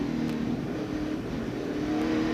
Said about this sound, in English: listen to that truck as they go over that curve, just pounding that curve